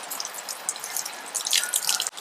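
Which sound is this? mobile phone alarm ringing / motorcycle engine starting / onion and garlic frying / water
water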